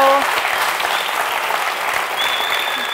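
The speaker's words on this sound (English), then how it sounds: "Let's have a huge round of applause for the organizers and the volunteers for the conference." A conference audience applauds, a dense, loud burst of clapping from a crowd with a faint whistle or squeak, steady throughout.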